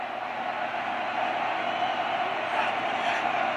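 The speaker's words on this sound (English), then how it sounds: "Here's the crowd noise." Stadium crowd roaring steadily at an Alabama vs. LSU college football game in 1985, a dense, sustained wash of distant voices with no clear breaks, rising slightly near the end.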